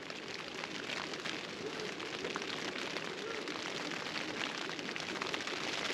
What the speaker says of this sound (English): It's still teeming here, as maybe you can hear.